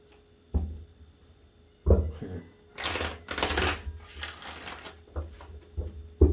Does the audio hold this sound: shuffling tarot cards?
yes